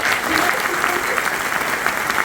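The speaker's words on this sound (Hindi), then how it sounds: "तुम चाहेंगे जोरदार ताली हो जाए मैनेजमेंट के लिए" Loud, dense applause from an audience at a company meeting, a sustained wash of clapping heard alone from start to finish.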